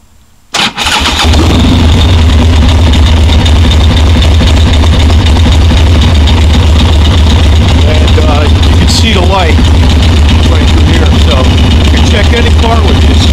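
A small engine on a test bench cranks over after a short quiet moment and catches, then settles into a steady, loud idle that runs through to the end, with faint chirps and rattles layered over the drone.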